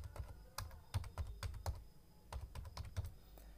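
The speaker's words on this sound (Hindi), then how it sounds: "अब आधार कार्ड का नंबर लिखना है, तो हम लिख रहे हैं" An Aadhaar card number typed on a computer keyboard while filling an online application form, with quiet, close key clicks coming in quick uneven bursts and short pauses, no voices.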